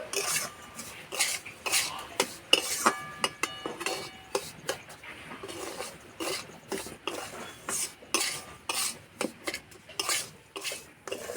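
Semolina and powdered milk for a milk cake are stirred in a pan, with a spatula scraping the metal in a long series of close, rhythmic rasping strokes.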